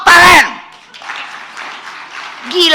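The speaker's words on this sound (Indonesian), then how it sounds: "Tepuk tangan." An audience at a woman's speech at a book launch breaks into a short burst of moderate applause between stretches of her voice, which is heard talking before and after.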